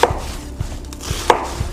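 Knife chops through raw chicken on a cutting board for soup, a few sharp, evenly spaced thuds close by with quiet gaps between.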